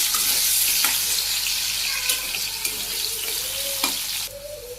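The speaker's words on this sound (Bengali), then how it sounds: "এই যে লাল লাল করে আমি আলুগুলো ভাজি করে নিচ্ছি" Potatoes fry in hot oil in a village kitchen with a loud, close, continuous sizzle and a few stirring scrapes, the hiss dropping away abruptly near the end.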